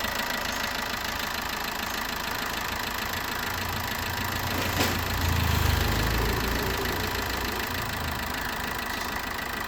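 A 2014 Maruti Ertiga VDI diesel engine idles steadily, a continuous close low rumble with even mechanical chatter and no revving, alone without talk.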